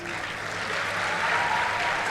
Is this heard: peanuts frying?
no